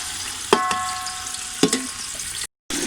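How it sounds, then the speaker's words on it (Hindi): Chopped onions fry in melted ghee over low heat, giving a steady soft sizzle with two sharp stirring clacks of a utensil against the pan and a brief drop-out near the end. "हमारा प्याज फ्राई हो रहा है"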